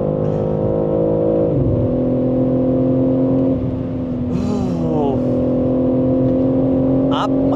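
A BMW M3 Competition accelerating hard at high speed, its engine note loud and continuous with harmonics climbing and shifting through gear changes, heard from the cabin as someone talks over it.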